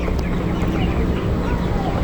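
Broiler chickens at nineteen days old cluck and murmur continuously in a poultry shed, a dense flock chatter that stays steady and close throughout.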